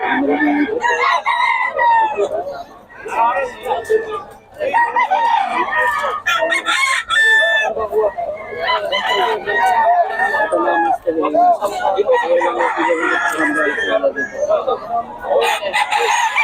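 Roosters crow again and again over constant clucking from many chickens at a busy Bocaue market in Bulacan, with people talking nearby throughout.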